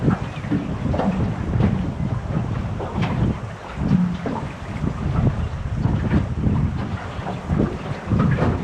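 Strong wind buffeting a boat at sea near rocky coast, a continuous loud roaring rumble with gusty microphone wind noise and water wash, no talking.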